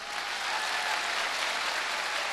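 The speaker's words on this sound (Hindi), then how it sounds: "जोरदार तालियां बजाओ अपने लिए एक बार" An audience at a Safe Shop diamond recognition event claps loudly for themselves, a dense steady wash of applause from many hands close by with no talk.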